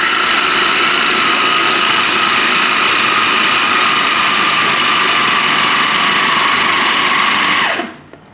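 Food processor mixing chicken mince with egg, a loud steady motor whir running continuously, then winding down and stopping at the end.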